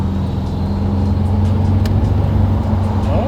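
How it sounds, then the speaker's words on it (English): Classic Buick Grand National turbo car cruising, a steady low engine drone and road rumble from inside the cabin, even and continuous with no clear surge, nobody speaking. "I feel that super turbo kick in, boy"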